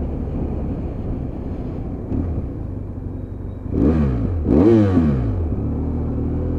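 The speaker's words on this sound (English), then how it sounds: "Rev bomb." Two quick engine revs rise and fall one after the other, loud over steady road and wind rumble, from a motorcycle passing near a BMW F800 rider.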